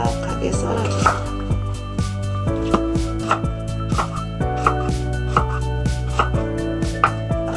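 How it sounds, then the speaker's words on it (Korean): A knife cuts radish into round slices about 1 cm thick, each chop landing as a sharp, close knock on the cutting board in a steady rhythm of roughly two strokes per second, over a faint low hum and music. "윗부분만 한 파란 부분을 절반으로 잘라서 한 1cm 정도 두께로 동글 납작하게 썰어주세요."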